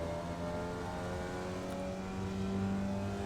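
A Formula Vee open-wheel racer in iRacing pulls hard in third gear at Tsukuba Circuit, its steady, buzzing engine note holding close and loud throughout with a slight rise toward the end, no voices.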